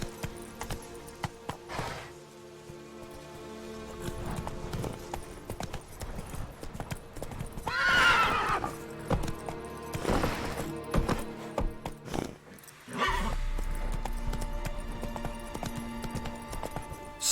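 Roach, the horse in The Witcher 3 video game, gallops with steady, close hoofbeats that swell and fade. A brief whinny-like cry rises mid-run over game music.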